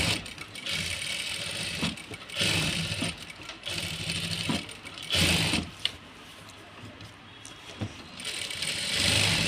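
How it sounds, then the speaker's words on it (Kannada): A sewing machine stitching an embroidery blouse, its mechanical whir running in bursts that start and stop, with clicking gear and ratchet sounds between runs. "ಈಗ ನಿಮಗೋಸ್ಕರ ಇನ್ನೊಂದು ಸ್ಟಿಚಿಂಗ್ ನಾನು ಹಾಕ್ತಾಯಿದ್ದೀನಿ ಅಷ್ಟೇ"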